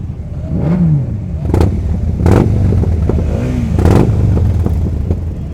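A motorcycle revs hard several times through a loud exhaust, sharp bursts of throttle rising over a steady throbbing idle, close by.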